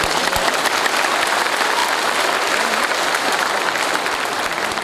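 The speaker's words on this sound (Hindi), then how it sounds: "ताली बजाना, जोश हो जाए दोस्तों" An audience at a business testimony event claps loudly and continuously, a thick, even roar of hands that holds steady for several seconds.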